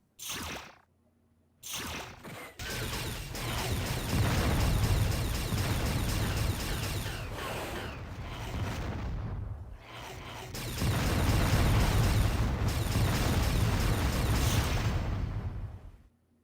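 Explosions in a retro video game, with booming bursts and whooshes filling most of the stretch, broken by a couple of brief quiet gaps, loud and close.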